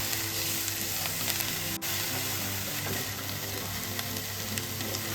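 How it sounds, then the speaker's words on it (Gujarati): Fenugreek leaves and coriander sauté in hot oil for bajra bhakhri, giving a steady close sizzle with light stirring and one sharp click partway through. "અને આ કોથમીર પણ જોડે એડ કરી દઈશું અને બે મિનિટ માટે આપણે સાતરી લઈશું આ રીતે તેલમાં"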